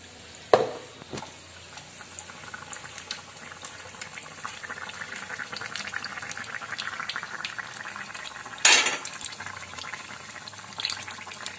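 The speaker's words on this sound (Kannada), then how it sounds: "ಎಲ್ಲಾನು ಎಣ್ಣೆ ಒಳಗೆ ಕರಿಬೇಕು" Brinjal bajji deep-fry in hot oil with a continuous bubbling sizzle, quiet and close, broken by a couple of sharp splashes or clatters near the start and toward the end, with no talking.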